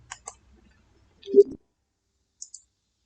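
A computer mouse gives several crisp, faint clicks: a pair at the start, a pair near the end, with a soft bump of handling noise between them in a quiet room.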